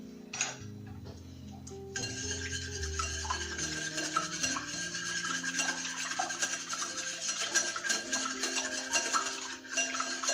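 Whole eggs and egg yolks are whisked together in a bowl for an onion tart, a steady close scraping and ticking of the whisk against the bowl that runs throughout, fairly quiet.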